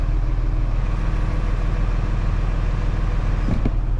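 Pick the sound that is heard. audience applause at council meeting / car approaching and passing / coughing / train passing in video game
car approaching and passing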